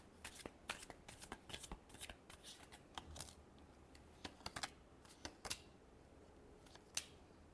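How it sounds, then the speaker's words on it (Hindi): Tarot cards are shuffled close up, giving a quiet run of crisp flicks and riffles in irregular bursts with short pauses between them. "Last shuffle."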